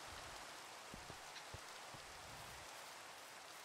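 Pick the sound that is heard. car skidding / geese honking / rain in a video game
rain in a video game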